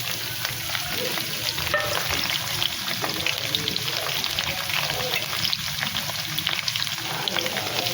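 Chopped small onions (shallots) sauté in hot oil with curry leaves, a steady close sizzle with crackling pops and occasional stirring scrapes throughout.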